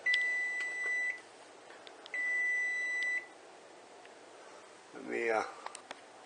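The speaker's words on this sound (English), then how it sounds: "The timer's off." A kitchen timer beeps in two quick bursts of rapid, high-pitched electronic tones, fairly quiet in the room, and a person speaks briefly afterward.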